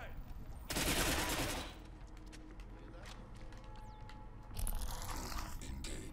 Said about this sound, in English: I think somebody was shooting.